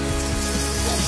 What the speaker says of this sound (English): Once you hear the sizzle, about that time.